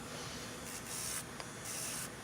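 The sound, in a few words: buffing acrylic nail overlay with a buffing block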